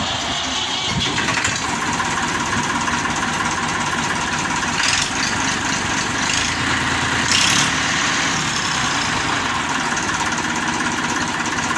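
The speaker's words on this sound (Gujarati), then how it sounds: "આપણે જો હવે ટ્રેક્ટર શરૂ કરીને જોઈએ છીએ" A tractor engine cranks and catches, then settles into a steady, rumbling idle that continues close by for several seconds.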